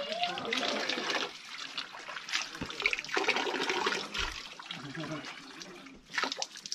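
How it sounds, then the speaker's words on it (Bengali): A natural spout of water pours from an opening in rock at Cherrapunji in Meghalaya, splashing and gurgling continuously at close range while a person speaks over it. "sprout of water comes opening inside a rock"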